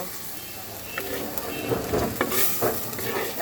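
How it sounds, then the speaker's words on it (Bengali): Spiced goat mutton curry with potatoes frying and being stirred in a clay pot, a dense close sizzle with scraping stir strokes that swell in the second half. "এখন আমি সামান্য পরিমাণে জল দেব মশলাটাকে সুন্দর করে আরও বেশ কিছুক্ষণ কষানোর জন্য"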